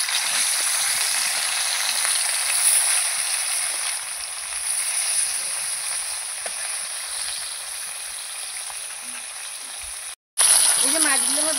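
Bata fish frying in hot oil, a steady broad sizzle with a faint high whine above it, continuing evenly before a brief dropout and a short snippet of voice at the end.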